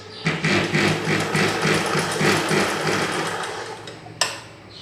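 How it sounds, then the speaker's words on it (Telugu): Sewing machine stitching a blouse seam, a fast steady run of rapid needle clatter close by, slowing near the end and stopping with a sharp mechanical click, with no talking. "అలానే రెండో వైపున కూడా కుట్టు వేసుకోవాలి."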